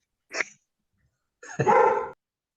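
A dog barks close by, one short sharp yelp followed after a pause by a longer, fuller bark, with silence around them.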